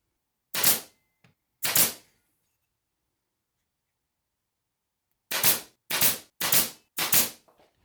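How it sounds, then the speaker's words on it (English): A pin nailer fires pins into glued wood clamp parts: two sharp, loud cracks a second apart, a pause, then four quick shots in a row, each crisp and isolated against near silence. "I'm spreading glue and firing in pins to keep the parts lined up"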